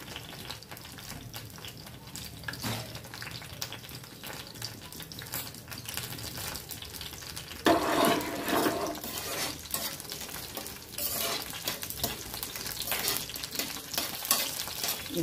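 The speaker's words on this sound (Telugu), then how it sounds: "ఈ బీరకాయలు ఇటు సైడ్ గోలుతాయి, టమాటాలు అటు సైడ్ గోలుతాయి అన్నమాట" Ridge gourd and tomatoes fry together in a pan, giving a steady close sizzle with occasional stirring scrapes and a louder burst of spattering partway through.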